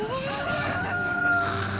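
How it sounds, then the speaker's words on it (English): A rooster crows in a cartoon episode of My Little Pony, one drawn-out call lasting the whole short moment, loud and close. "a passenger brought a rooster on board"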